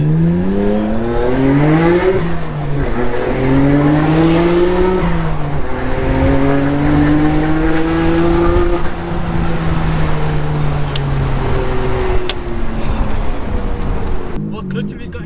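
A 3.2 V6 car accelerates hard in second gear, its loud engine note climbing steadily in pitch with a quick drop at a shift, heard close from inside over continuous road roar while people talk.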